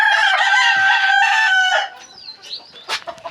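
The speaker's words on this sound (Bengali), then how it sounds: "এই যে এটা হচ্ছে সবচেয়ে বড় মোটা মোরগ" A big, heavy rooster on a rooftop crows loudly and close for under two seconds, then breaks into scattered short clucks and squawks.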